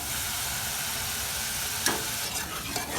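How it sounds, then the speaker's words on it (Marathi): Onion paste fries in a pan with a steady, dense sizzle throughout, and a couple of brief stirring scrapes come near the end. "कांद्याची पेस्ट चांगली फ्राय करून घ्यायची आहे"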